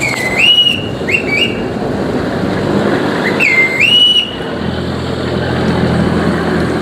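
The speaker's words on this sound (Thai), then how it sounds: "เรือกำลังเทียบท่า" A Chao Phraya express boat docks at a crowded pier on the river, with loud sharp whistle blasts in short bursts over a steady engine and water rumble.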